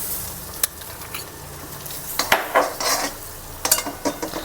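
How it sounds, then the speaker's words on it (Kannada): Butter melting in a pan on a low flame: a soft, close sizzle broken by scrapes and light metallic clinks of a utensil stirring against the pan, with no talking. "ಸೊ ಇದಕ್ಕೆ ನಾನು ಬಟರ್ ಹಾಕ್ತಾ ಇದ್ದೀನಿ"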